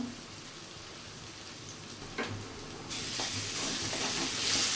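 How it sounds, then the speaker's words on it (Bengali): Turmeric and chili powder frying with vegetables in a pan for dhaba-style Bengali torka, stirred as they cook. A steady close sizzle and stirring scrapes swell noticeably louder partway through, with no talking. "এবার মশলাটাকে ভালো করে কষিয়ে নেব"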